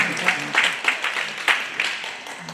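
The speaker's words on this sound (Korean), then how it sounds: "뜨거운 박수 부탁드리겠습니다." A small audience claps for a lecturer at a civic information session, with scattered, uneven hand claps that come in soft bursts rather than a full ovation.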